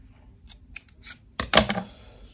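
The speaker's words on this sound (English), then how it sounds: "I am going to cut this off." Scissors snip through crochet yarn while a heart bucket hat is being finished, a few quick close clicks of the blades ending in a louder, sharper cut, with no speech.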